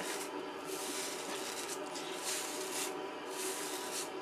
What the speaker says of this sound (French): Je brosse.